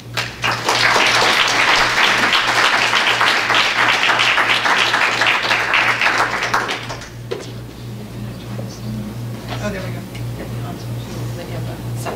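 An audience at a library talk breaks into loud, sustained applause welcoming a speaker, dense clapping for about seven seconds before thinning out to scattered claps and quieter room noise.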